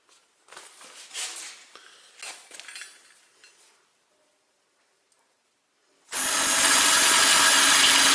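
A power drill bores a starter hole in a toothbar mounting slot, preceded by light metallic clinks and handling. A steady, loud, close drill whir starts abruptly near the end.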